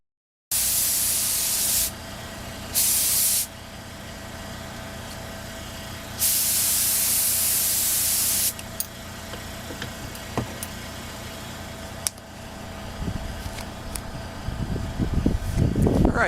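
A spray gun lays clear coat onto a car in several loud, close bursts of hissing spray separated by pauses, with a steady hum of fans and compressor underneath and faint clatter near the end.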